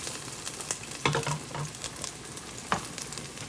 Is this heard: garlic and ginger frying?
yes